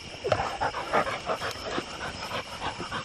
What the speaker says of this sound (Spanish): Miren la calidad de estos perros.